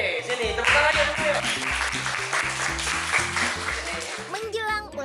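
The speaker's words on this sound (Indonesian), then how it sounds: "sini tepuk tangan ya dulu" Schoolchildren at an elementary school in Malang clapping together as a group, a steady wash of applause with children's voices talking and calling over it throughout.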